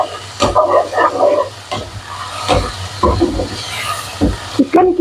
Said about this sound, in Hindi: चिकन को फ्राई कर लेना।